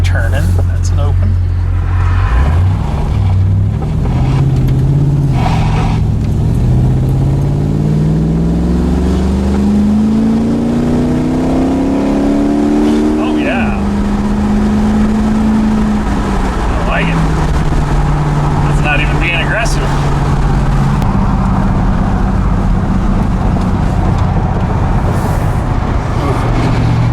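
Steady road traffic hums around a Chevrolet S10 street truck with an LS engine swap, with engine drone and passing vehicles rising and falling continuously while someone talks over it.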